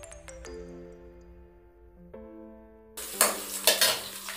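Dried red chillies and crushed garlic go into a hot pan, with a few ringing metallic clinks first, then a sudden loud sizzle and crackle that builds as the frying starts.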